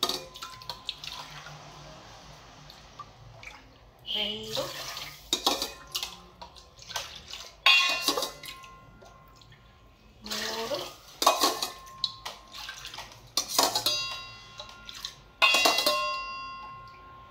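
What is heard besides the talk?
pouring cups of water into sugar for syrup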